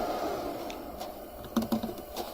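A Robox dual 3D printer extruder grips and draws in filament, giving a few quiet, close clicking ticks over a faint background hum.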